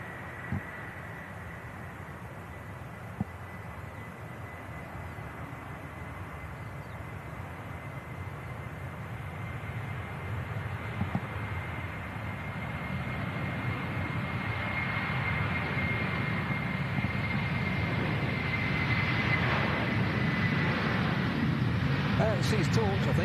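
Jet engines on an Aer Lingus airliner at Manchester Airport spool up from a distant hum into a swelling, broad roar that grows louder over the final seconds, with a faint high whine running through it.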